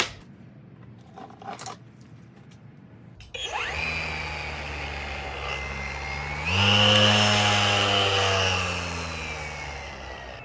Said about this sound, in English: I first tested it on my string trimmer and that didn't have any issues.